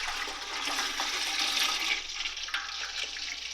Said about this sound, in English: I start out with 2 gallons of fresh milk and just add it to the pot.